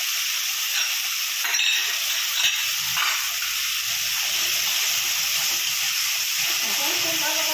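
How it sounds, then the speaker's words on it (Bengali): Salt, turmeric, cumin, coriander and Kashmiri chilli sauté in a hot pan, giving a constant close sizzle and hiss with occasional scraping stirs and a few brief clinks, and some faint background voice. "এখন খুব ভালো করে কষিয়ে নেব।"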